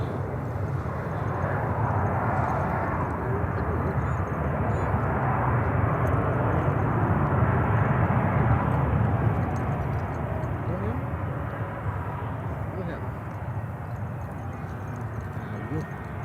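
An airliner taking off from runway 36 center at Charlotte airport gives off a steady, broad jet roar that stays loud and fairly constant throughout, with no talk over it.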